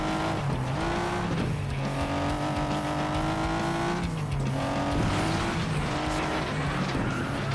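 A struggling car engine in the FlatOut: Ultimate Carnage racing game drones loudly and steadily. Its pitch climbs, then drops back several times as it strains through gears, with faint tire noise and no talk.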